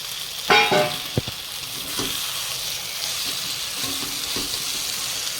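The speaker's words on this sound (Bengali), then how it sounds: "পটল দিয়ে আর একটু ভালোভাবে ভেজে নেব।" Fried pointed gourd (potol) cooking in a prawn paste gravy, with a continuous close sizzle, a sharp spatula scrape near the start and a few lighter stirring knocks afterward; no talking.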